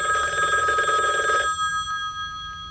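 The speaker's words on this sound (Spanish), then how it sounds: "Me parece que suena el teléfono." A telephone bell rings loudly and close for about a second and a half, then stops, leaving a faint hum in a quiet room.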